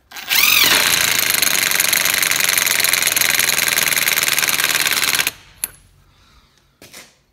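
Milwaukee 1/2-inch impact wrench on a nearly dead battery hammering loudly for about five seconds, then stopping, followed by a couple of faint clicks and knocks.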